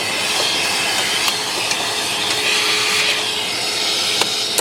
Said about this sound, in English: I'm now just going to clean the bottom here. Again, just a hoover and a general brush.